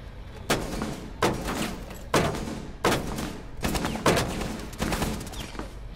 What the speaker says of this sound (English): This guy's just shooting at me, I'm just distracting.